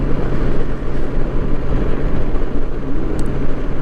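Honda Goldwing trike riding along a road, a steady loud engine drone mixed with wind rush that holds constant throughout, with no talking.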